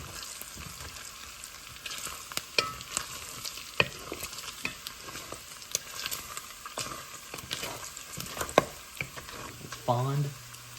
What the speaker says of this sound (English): as our bacon crisps up, it leaves a dark residue on the bottom called the fond